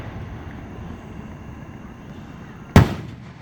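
A single Fourth of July firework bursts with a sharp boom at a fairground display in Union City, Tennessee, loud over low outdoor wind rumble.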